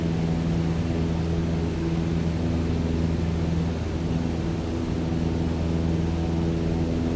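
Steady droning engine of a Cessna 152 in Microsoft Flight Simulator 2020, a constant tonal hum with strong low harmonics and a broad airy roar, unchanging throughout and heard alone without speech.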